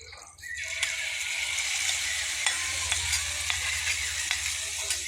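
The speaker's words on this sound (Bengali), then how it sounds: "এখন পুরাপুরি সবটুকু চিকেন ভেজে নিতে হইব।" Chicken fries in a pan with a steady, moderately loud sizzle, broken by a few light clicks of a spatula stirring the pieces.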